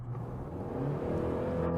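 Kia Tasman pickup engine revving up under acceleration, heard from inside the cab during a drive in Korea; a steady, moderately loud whir that swells slightly and rises in pitch over two seconds.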